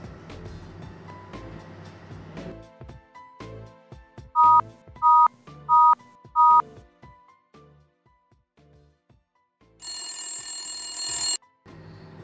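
Telephone keypad tones beep four times in a steady rhythm, then a loud electronic ring sounds, set in a Tamil short film about a broke young man phoning home for money; quieter movement and background noise fill the gaps.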